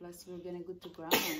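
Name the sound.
sneeze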